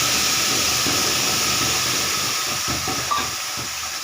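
A ground paste of kharkol (bhetkul) leaves and spices hits hot oil, producing a loud, continuous, close hiss that holds steady, with faint stirring knocks underneath.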